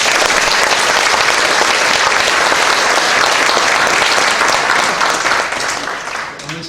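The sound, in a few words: church congregation applause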